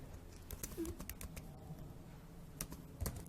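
Typing on a computer keyboard in a quiet room: a steady run of soft, close key clicks at an uneven pace, with a few sharper taps standing out.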